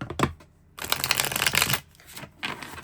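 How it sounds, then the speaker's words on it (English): A tarot card deck is shuffled up close, with a brief riffle followed by a longer flutter of cards and a final short burst. "let's do our couple of shuffles"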